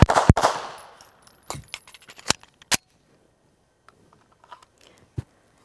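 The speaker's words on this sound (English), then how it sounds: "We're gonna move side to side and shoot." Pistol shots ring out during a side-to-side moving shooting drill, a loud pair of close reports at the start followed by scattered sharper cracks and clicks that fade into quiet handling noise.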